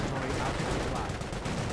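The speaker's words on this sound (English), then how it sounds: "Grenade hits there." Grenade hitting in Company of Heroes amid heavy battle: dense, continuous crackle of gunfire and explosions at steady loudness with no clear separate blast standing out.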